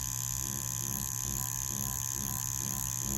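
An Ambition Ninja wireless tattoo machine running, with a steady, close electric buzz and a faint rhythmic pulse that holds an even level for the whole stretch, with no talking.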